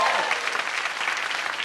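A comedy show audience claps in welcome, a steady, fairly loud burst of applause filling the room without a break.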